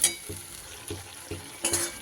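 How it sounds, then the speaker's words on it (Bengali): Spoon stirring chilli peas with ground Kashmiri chilli and black pepper in a hot pan, with soft scraping strokes about every half second over a light sizzle, close and moderately quiet. "এবার সব কিছু সুন্দর করে আমি মিশিয়ে নেব।"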